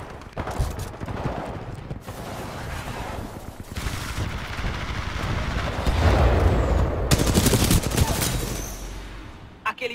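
Heavy weapon fire in Titanfall 2 pounds out in rapid, loud bursts and sustained volleys, close and booming, with a brief pause near the end and some voice underneath.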